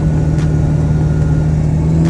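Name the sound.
Ford 7.3 Powerstroke diesel engine at 2,500 RPM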